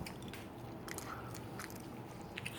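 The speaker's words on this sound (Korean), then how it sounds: "수박 먹방." Close, quiet crunching and wet chewing from bites of fresh watermelon, with a few soft crisp bites over a steady low background hiss.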